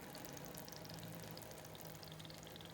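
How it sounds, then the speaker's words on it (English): Halva mixture sizzling and bubbling in a pan on the stove, a faint, steady crackle of tiny pops continuing without pause and with no voices. "You can hear it sizzling."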